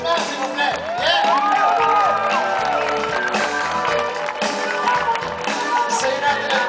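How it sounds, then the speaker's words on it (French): A crowd at the Montreal Jazz Festival claps and cheers loudly and continuously, with whoops and shouts rising over the applause and faint music or voices mixed in. "Une grosse main d'applaudissements, s'il vous plaît."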